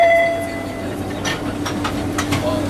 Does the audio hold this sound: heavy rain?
no